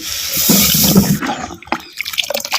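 Water is poured into a pan of eggplant and potato frying in oil, giving a loud rushing splash and hiss that breaks into bubbling, spitting crackles as it settles, close and with no talk.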